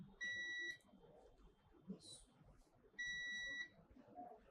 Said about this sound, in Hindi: अब बीप रेंज पर अगर सेट करते हैं दोनों साइड से बीप आती है तो शॉर्टिंग माना जाता है।